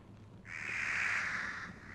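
A crow caws once in a single drawn-out, harsh call within the horror video game Don't Scream, loud and clear over a quiet ambient background with no talking.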